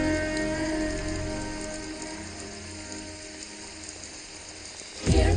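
Steady rain falls continuously on a surface, a dense even patter over a low tonal background that swells briefly near the end.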